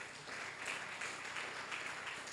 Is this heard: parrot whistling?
no